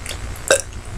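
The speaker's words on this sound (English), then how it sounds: "Burp one more time." A single short burp from a person, one abrupt close gulping eructation over faint room noise.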